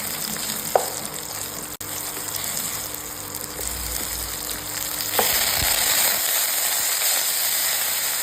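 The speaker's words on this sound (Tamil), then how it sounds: "நெக்ஸ்ட்டு வெங்காயத்தை போட்டு கொஞ்சம் வதக்கிக்கலாம்." Onions sautéing in a pan for a Tamil fish curry, a continuous close sizzle with a few stirring scrapes and clicks, the frying growing slightly louder toward the end; no talking.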